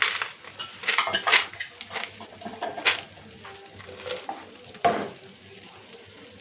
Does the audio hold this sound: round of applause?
no